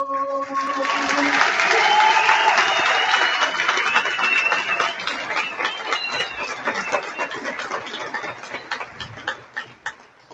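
Theatre audience applauding at a comedy show during the Fiestas de Ambato, a broad wash of clapping that starts loud after a sung passage and gradually thins out over ten seconds, with crowd noise mixed in.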